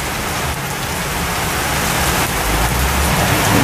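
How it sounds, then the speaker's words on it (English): Heavy rain pours down steadily in a severe thunderstorm in Westbury, a dense, loud hiss that swells slightly toward the end, with no voices over it. "The rain is starting to blow its way."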